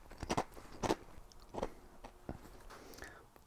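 Crunchy bites and chewing of Aldi Snack Right plain (non-ridged) salt and vinegar crisps, several loud close crunches spaced about half a second apart, then quieter chewing.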